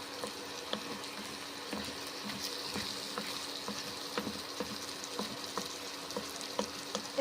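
Cauliflower and peas curry sizzles gently in a pan as it is stirred, with a soft steady frying hiss and faint scraping ticks from the stirring, quiet and close.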